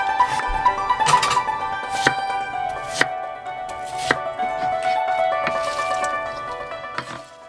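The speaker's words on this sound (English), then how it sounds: "we wash, peel, and chop our produce" Fresh produce being chopped with a knife on a board, a series of sharp, close chops at an irregular pace with brief wet squishes between them, no voices.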